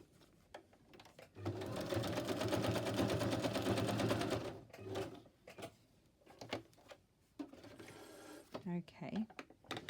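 A sewing machine runs a zigzag stitch across a gift box, a steady close mechanical whir lasting about three seconds before cutting off, followed by scattered handling clicks and rustles.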